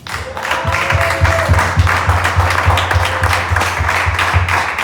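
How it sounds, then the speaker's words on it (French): A church congregation claps and applauds together in a steady rhythmic beat, dense and fairly loud, continuing throughout without spoken words. "Acclamons pour Jésus."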